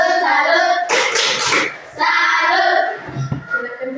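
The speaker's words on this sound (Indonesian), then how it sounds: "kita beri tepuk salut untuk teman-teman dari kelompok Matahari" A fourth-grade class gives a rhythmic salute clap in a classroom, loud bursts of hands separated by brief pauses, with children's voices chanting mixed in.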